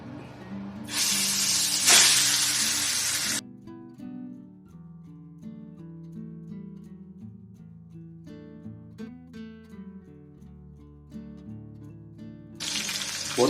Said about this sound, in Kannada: ಇವಾಗ ಎಣ್ಣೆ ಬಿಸಿ ಆಗಿದೆ. ಈ ಬಂಗುಡೆಯನ್ನು ಇವಾಗ ಹಾಕ್ತಿದ್ದೇನೆ.